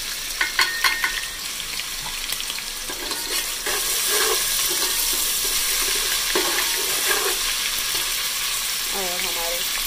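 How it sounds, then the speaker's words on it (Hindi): Light-brown onions frying in a pan as ginger garlic paste goes in, a loud steady sizzle with occasional stirring scrapes and clinks throughout, close by, with no talking. "अब इसको हम फ्राई कर लेते हैं"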